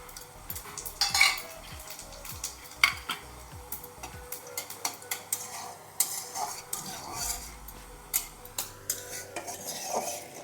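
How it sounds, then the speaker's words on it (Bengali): Cumin seeds and two dried red chillies temper in hot oil, a light sizzle broken by scattered clicks and scrapes of a spoon against the pan, close and fairly quiet. "ফোড়নে দিচ্ছি জিরা আর দুটো শুকনো লঙ্কা"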